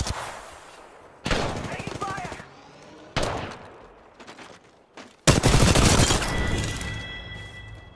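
Rapid automatic gunfire bursts from the Apex Legends video game, loud and close, in several sharp volleys separated by short pauses, with game sounds layered around them.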